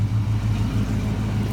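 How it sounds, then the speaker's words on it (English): A car engine running with the hood open, a steady close low rumble at idle with an even, continuous drone and no talk. "I'll pop the hood too so you guys can see the motor running"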